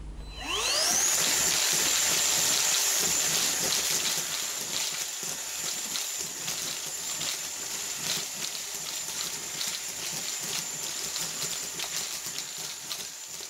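Bosch GAS 18V-10L cordless vacuum runs loud and steady for the whole stretch, its whine rising in pitch at the start, with a patter of metal washers rattling up the nozzle.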